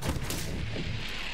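A deep, rumbling blast from an explosion in the shooter game Borderlands 3 booms with low-end weight and then fades into sustained roaring noise. Loud and close, with no talking.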